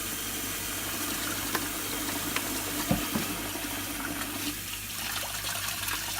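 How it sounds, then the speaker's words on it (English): Lukewarm water runs and sloshes steadily while a Hoover Junior U1206 upright vacuum part is rinsed and swished around in a sink with a little fabric softener, a continuous close splashing flow with a few small knocks. "Just some lukewarm water. Just squish it around, swish it around."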